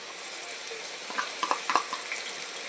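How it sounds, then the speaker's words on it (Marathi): Ginger garlic paste hitting sliced onions frying in a pan, giving a steady soft sizzle with a few brief clinks and stirring sounds near the middle, no voices. "आपण त्याच्यात अद्रक लसूण पेस्ट टाकूया"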